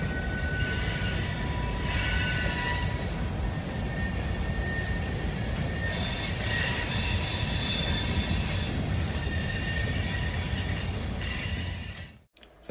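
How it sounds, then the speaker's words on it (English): A Nebraska Central Railroad train rolls toward the main yard, loud and close, with continuous rumbling wheels, steady rail noise and occasional squealing of wheels on the track, then cutting off abruptly at the end. "The train heads to the main yard"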